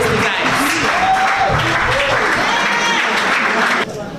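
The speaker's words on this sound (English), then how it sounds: "can we all give a huge round of applause to the talented young man, Lamin Job" Audience applause at an art exhibition, steady dense clapping from a crowd filling the room for about four seconds before cutting off abruptly near the end.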